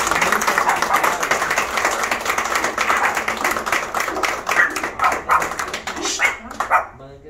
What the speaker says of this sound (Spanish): le regalamos ahora un fuerte aplauso